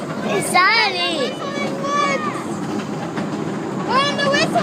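A mini train ride on a sunny day, with a steady rumble and rattle of the small cars rolling along under continuous nearby talk from an adult and a child.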